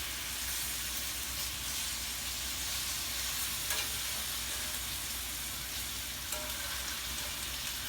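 Bourbon-glazed salmon sizzles in a hot pan as it browns, a constant, even hiss of frying with a couple of faint clicks from turning the fish.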